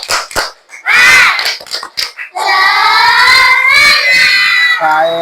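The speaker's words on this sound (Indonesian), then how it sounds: "Tepuk tangan untuk kita semuanya. Baik, semuanya tepuk semangat." A classroom of children does a rhythmic spirit clap in an Islamic religious education lesson, several quick group claps followed by loud children chanting together.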